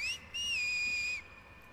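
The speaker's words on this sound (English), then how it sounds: "She really gotta stop doing that whistle." A character in the video game The Last of Us Part II whistles a short, clear, high tone, briefly breaking off and then holding a steady note before fading, alone against a quiet background.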